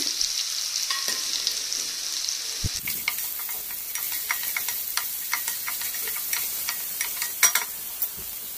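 Green chilies fry in hot oil for a vegetable pulao. A steady hiss gives way after a sudden thud to denser crackling and popping that continues to the end.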